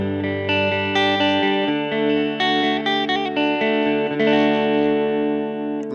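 An electric guitar plays chords and single notes with a mostly clean tone and a light edge of grit, ringing out with some reverb.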